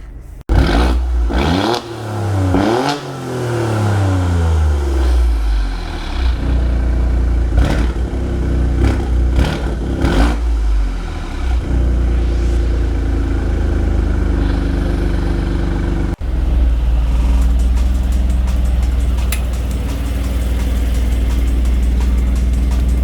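An Alfa Romeo Stelvio Quadrifoglio engine revs hard several times with rising and falling pitch, then settles into a steady drone as the SUV drives off, loud and close throughout with no talking.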